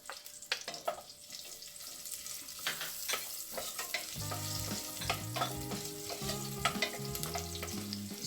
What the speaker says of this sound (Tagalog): Igisa natin yung ating garlic.